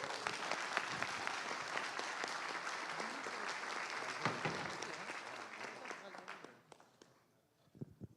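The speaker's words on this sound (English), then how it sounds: "so please give them a warm applause" Warm audience applause fills a conference room at a Drupal event, steady and dense for several seconds before tapering off into a few scattered claps near the end.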